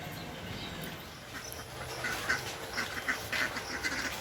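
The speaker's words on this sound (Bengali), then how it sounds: "হাঁসগুলো কোথায় যাচ্ছেন তাই বলছে" Ducks quack outdoors at a moderate distance, a loose run of short calls over steady background noise, with no talk.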